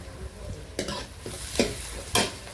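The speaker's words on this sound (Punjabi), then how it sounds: "ਤੜਕਾ ਭੁੱਜ ਰਿਹਾ ਤੁਹਾਨੂੰ ਦੇਖਦਾ" Tadka crackles and sizzles in a pan, a soft continuous frying hiss broken by three sharper scrapes and clinks of a spoon stirring, up close with no voices.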